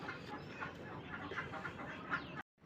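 Low, steady clucking from a hen perched on a door, close and continuous for a couple of seconds, then a brief drop to silence.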